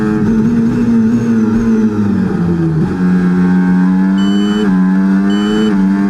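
Car engine in a racing video game accelerating under full throttle, a loud, continuous, droning engine note that dips and climbs again as the revs change, with brief high whines near the end.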